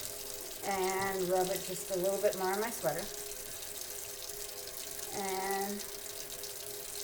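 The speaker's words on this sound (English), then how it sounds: "So I'm going to turn on the water" A household tap runs steadily, giving a faint, constant watery hiss beneath a person talking.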